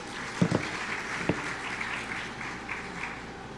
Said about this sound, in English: Another round of applause for the new members, please